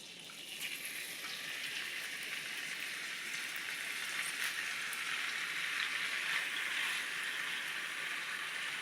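Beef tips sizzle and crackle in hot vegetable shortening in a pan, a steady, quiet hiss with scattered spits and pops, heard alone without talk.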